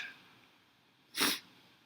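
A single loud, sharp sneeze bursts out in a lecture hall, brief and close, against a quiet background.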